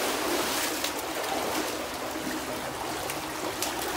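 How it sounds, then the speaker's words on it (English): Beaver dam water runs freely through a freshly cleared clog, a steady close rush and trickle with no one speaking. "That gave a lot more flow of the water"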